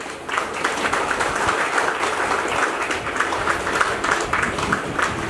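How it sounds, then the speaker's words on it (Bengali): Sustained applause from an audience at a stage ceremony where a guest guide is being welcomed, a dense steady wash of clapping with rhythmic bursts that holds at an even level throughout. "এটা জোরে হাততালি হোক।"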